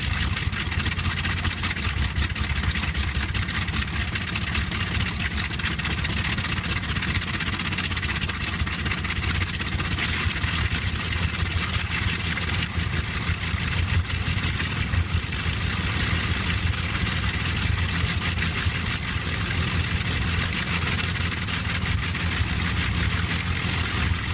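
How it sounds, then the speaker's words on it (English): A Bristol Hercules radial engine on a Halifax bomber at Pocklington runs steadily, a dense continuous drone with rough low rumble and a constant level throughout, heard alone without talk. "the roar of a Halifax engine had echoed across Pocklington"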